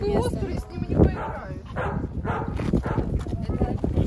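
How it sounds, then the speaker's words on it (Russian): A puppy in North Ossetia in the Caucasus gives a string of sharp, close yips and barks, mixed with people talking nearby. "Это щенок."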